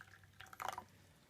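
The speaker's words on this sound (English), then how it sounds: "warm up the Gaiwan by pouring some hot water in it" Hot water poured into a gaiwan to warm the small lidded tea bowl, a short, quiet splash and trickle of liquid lasting under a second, close by with no talk.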